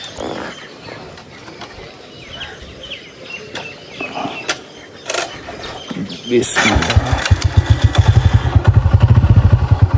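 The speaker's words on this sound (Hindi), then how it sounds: "और बाइक को मारते हैं जी सलफ।" A motorcycle engine cranks on its electric self-starter and fires up, then settles into a throbbing idle close by, after a stretch of quieter outdoor ambience with faint thumps.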